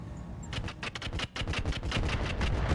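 Weapons fire on turrets in the mech combat game Roguetech, a quick run of sharp, evenly loud bursts and thuds repeating for nearly three seconds.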